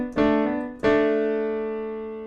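Piano plays a line from a song: two struck chords about half a second apart, the second left to ring and slowly decay, clear and close with no talking.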